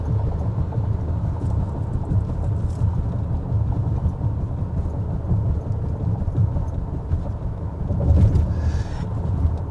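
Inside a 2026 Range Rover Velar S on a rough road, a steady low rumble of road noise fills the cabin and swells slightly toward the end. Nobody speaks.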